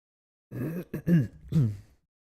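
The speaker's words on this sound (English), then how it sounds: "Sorry for clearing my throat" A person clears their throat up close, a few rough guttural bursts in quick succession, then quiet.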